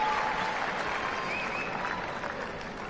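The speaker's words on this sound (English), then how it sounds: "Applauding that one." Tennis crowd at Indian Wells applauding a strong return in a women's match, a broad steady sheet of clapping from a large stadium audience, sustained and gradually fading slightly.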